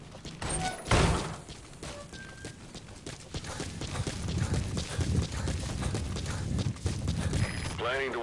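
Horse hooves gallop in the Metal Gear Solid V video game, a fairly quiet, rapid clip-clop pattern running under a voice, with a heavier thump near the start and game sound effects layered around it.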